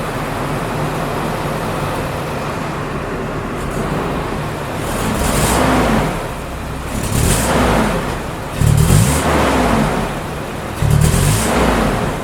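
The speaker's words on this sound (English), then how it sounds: "watch when I try to give it a little bit of gas" A Nissan Hardbody pickup engine idles roughly, then revs with a little gas in four repeated surges, each rising and falling in a steady loping rhythm, loud and close with no voices.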